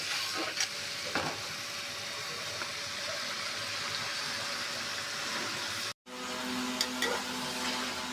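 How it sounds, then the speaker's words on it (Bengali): Raw jackfruit sautés in a pan, an even hissing sizzle with occasional stirring scrapes, broken by a brief cut to silence before the frying resumes; no one speaks. "আমি কাঁঠালটা একটু কষিয়ে নিই"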